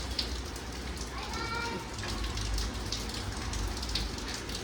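Continuous rain patters and hisses steadily, with a faint voice in the background.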